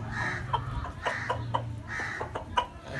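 Rooster and hens in a Indian home yard, several short clucks and calls spaced through the moment, moderately close over a steady low background hum.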